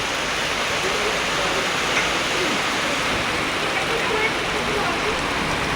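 Steady rain falls in a continuous hiss, fairly loud and even throughout, with no clear breaks.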